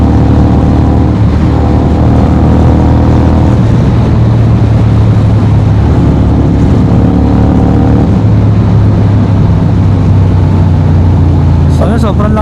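Honda X-ADV 750 motorcycle's 270-degree engine runs loud and steady, a low droning rumble with slight shifts in pitch under a voice speaking over it.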